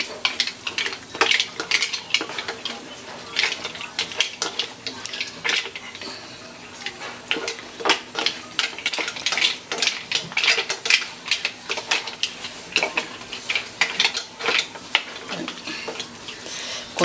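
Mixed seafood of shrimp, mussels and squid is stirred in a pan, with continuous loud metallic clinks and scrapes of the utensil against the pan over a soft background sizzle.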